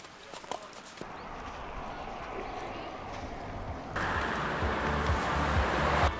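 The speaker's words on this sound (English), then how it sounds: "Got like 10-20 horses just randomly running around." Some ten to twenty loose horses run about in Bosnia and Herzegovina, their hooves clip-clopping faintly under a steady background rumble that grows louder partway through.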